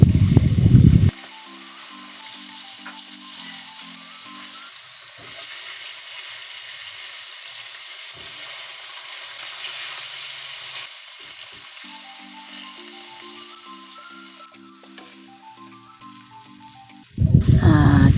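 Cencaru fish stuffed with sambal frying in hot oil, a steady soft sizzle running throughout, with low background music and louder handling noises at the start and end.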